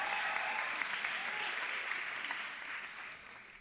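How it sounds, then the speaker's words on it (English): An audience claps at a high school recognition night. Steady, fairly distant applause from a roomful of people holds for a few seconds, then slowly thins and fades. "Let's clap again just because it's exciting."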